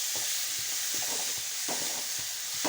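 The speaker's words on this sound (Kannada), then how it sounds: "ಹಸಿಮೆಣ್ಸಿನ್ಕಾಯಿ ಪೇಸ್ಟು ಬೆಲ್ಲ ಅರಿಶಿನ ಪುಡಿ ಅದು ಕಲಿಸ್ತೀನಿ ನೋಡಿರಿ" Green chili paste, jaggery and turmeric being mixed in a pan for jowar puffed-grain susla, soft repeated scraping strokes of stirring over a faint steady sizzle.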